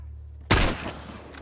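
A single gunshot from The Last of Us game, one sharp close blast with a short ringing tail, set against a faint low background hum.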